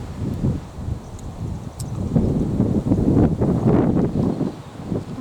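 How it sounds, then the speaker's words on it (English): Wind gusts through the Australian bush outdoors, a fairly loud, continuous low rumble and buffeting that swells and eases over several seconds, with no voices. "Listen to that wind."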